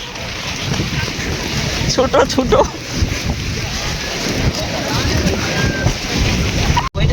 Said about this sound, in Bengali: এই প্রচন্ড জোরে বৃষ্টি এসে গেছে